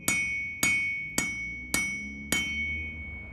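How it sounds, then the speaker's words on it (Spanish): Five evenly spaced hammer blows ring out on iron, each a sharp metallic strike with a bright ringing tail, loud and close with no voices. "Golpes y más golpes."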